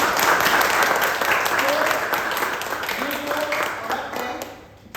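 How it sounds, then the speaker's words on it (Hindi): Loud applause from an audience at a product launch demo for alkaline mineral drops, dense steady clapping across the clip with a voice speaking over it, fading toward the end. "तो एक बार जोरदार तालियां बजाइए।"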